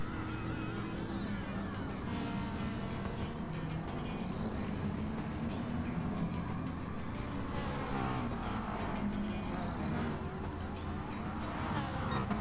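Race car engines roar in Gran Turismo Sport during a daily online race in Brazil, trailing a Ferrari. A dense, continuous engine drone with rising and falling pitch sweeps runs steadily throughout.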